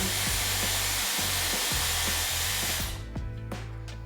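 A Dyson Airwrap hair styler blows a strong, steady rush of air at close range, then the tone shifts and thins partway through as the setting changes, with soft clicks and handling noises near the end.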